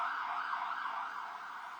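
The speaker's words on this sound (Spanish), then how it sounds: "que Dios acompañe a esa persona en ambulancia" An ambulance siren wails steadily, its rising and falling tone sustained and fairly loud with no talk over it.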